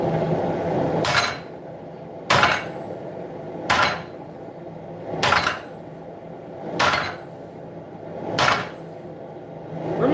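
Six evenly spaced hammer blows ring out on hot steel as hammer heads are forged into a tomahawk, each strike sharp and metallic with a brief ringing decay, alone without talk.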